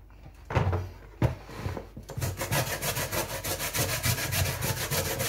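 Sweet potato rubbed hard against a hand grater outdoors, a few separate strokes at first, then a steady fast rhythm of close, loud rasping scrapes.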